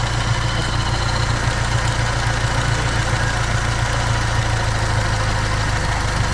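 A car engine idles low and steady after its vacuum connection has been tuned, a continuous close rumble with a smooth even pulse and no voices.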